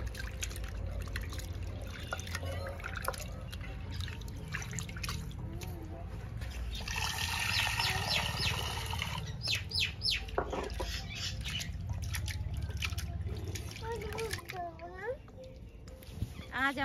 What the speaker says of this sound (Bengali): এবার চিংড়ি মাছটা ভালো করে ধুয়ে নেব।